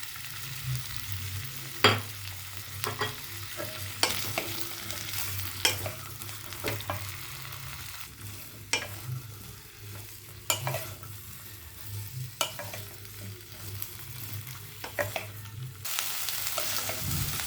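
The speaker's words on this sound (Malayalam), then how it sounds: "മീഡിയം ഫ്ലെയിമിൽ ഇങ്ങനെ നല്ല വഴറ്റണം." Onion, garlic and cauliflower sauté in a pan over medium flame, a soft steady sizzle under repeated spoon scrapes and clacks against the pan, quiet and close, no talking.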